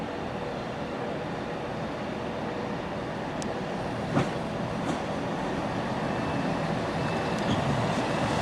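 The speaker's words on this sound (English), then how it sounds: "show me that unit arriving now into Crewe" A Transport for Wales Class 158 diesel multiple unit pulls into a platform at Crewe station, a steady low rumble of the train with faint wheel clicks and a couple of brief squeals, heard from the platform at moderate distance.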